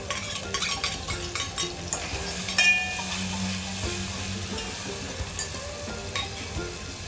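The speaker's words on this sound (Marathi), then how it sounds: "मी तेल टाकलं त्यात मी ओला कांदा टाकला आणि चांगला भाजून लालसर भाजून घेतला" Chopped onion frying in hot oil in a pot, a steady sizzle with scattered utensil scrapes and clinks, close and continuous with no talking.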